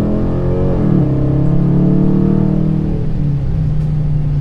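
A 2018 Dodge Challenger with a Hemi V8 rumbles loudly and steadily nearby, its engine note rising slightly early on before settling into an even, deep drone.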